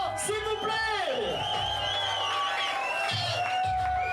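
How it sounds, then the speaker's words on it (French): A studio audience at a casting show cheers and whoops for a candidate, with lively crowd voices and shouts filling the room. "Sous vos applaudissements, s'il vous plaît."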